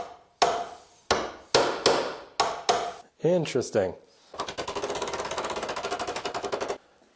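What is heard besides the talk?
hammering sheet metal fender over a hammer form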